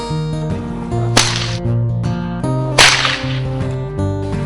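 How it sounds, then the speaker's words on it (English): Two sharp cracks of a heavier four-plait stockwhip used for driving cattle, loud and close, spaced about a second and a half apart over steady background music. "You don't build animals with a whip. The noise is to drive the cattle."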